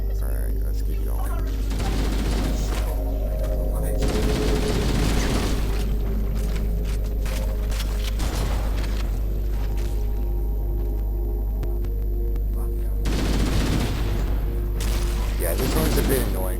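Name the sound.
chain reaction of explosions in the video game Halo: CEA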